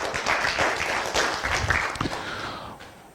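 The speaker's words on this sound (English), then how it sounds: "Well, yes, big applause." An audience at a Maranatha gathering breaks into dense, continuous applause, loud at first and gradually thinning out over a few seconds.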